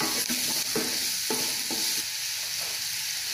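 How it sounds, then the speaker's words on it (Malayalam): Onions sauté in a pan at medium heat, a soft steady sizzle under a series of regular spatula scrapes and stirs, close and moderately quiet, with no speech. "ഈ സവോളയൊക്കെ ഒന്ന് നന്നായിട്ട് ഒന്ന് വഴന്ന് വരണം കേട്ടോ."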